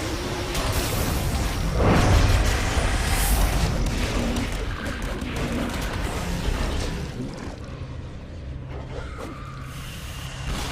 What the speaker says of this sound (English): we can use the proximity bombs to soften them